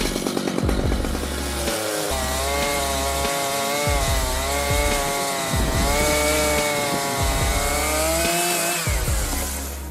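A Stihl MS 881 chainsaw cuts through a huge 1.2-meter log. The engine roars loud and close the whole time, its pitch rising and dipping as the bar bites into the wood.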